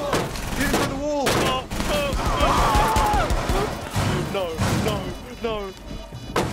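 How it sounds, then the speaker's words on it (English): Gunfire shot through a wall in a video game, a series of loud bursts and heavy impact thuds mixed with excited, overlapping voices. "Shoot him through the wall!"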